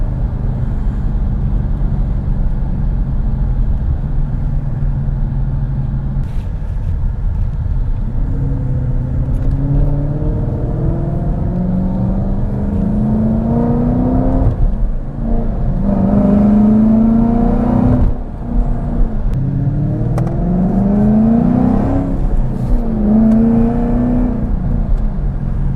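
2017 Ford Mustang GT V8 driving and revving from inside, a steady low rumble rising through repeated climbing engine pulls with shifts in between, loud and continuous, no speech.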